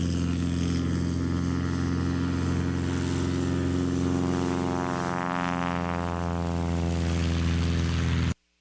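A 1953 Cessna 180 with a Norland engine conversion and an MT propeller drones steadily and loudly at close range, its engine and prop tone rising and swelling mid-way before cutting off abruptly at the end.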